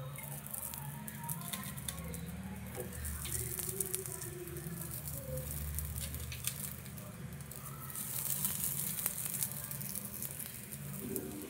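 Flour, potato and egg snacks lightly frying in oil in a pan, giving a steady soft sizzle and patter that runs throughout, with faint background noise.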